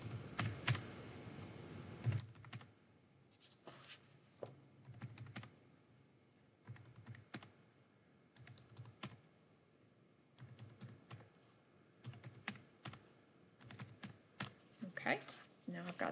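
Number keys pressed on a calculator keypad while entering tax return figures, a run of quick light clicks in irregular bursts, close by, with pauses between entries.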